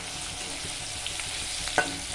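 Chopped fresh green chillies frying in a pan for a fish curry, a faint steady sizzle with light stirring scrapes and one small clink near the end.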